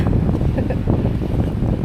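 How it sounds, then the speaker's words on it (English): Strong wind on Maui roars and buffets the microphone in a steady, loud, low rumble with no talking. "it's very windy"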